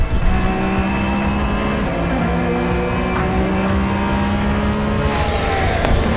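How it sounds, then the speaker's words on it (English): An LMP2 prototype race car closes from behind at Le Mans, its engine whine climbing and shifting through gears, loud over the steady drone of the car ahead, with no speech. "LMP2 closing from the back."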